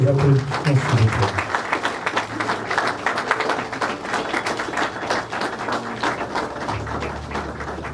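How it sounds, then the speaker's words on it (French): Applause at a museum ceremony for the handover of Patrice Emery Lumumba's tooth, a steady patter of clapping running for several seconds beneath a voice and low background chatter. "Sous vos applaudissements, s'il vous plaît."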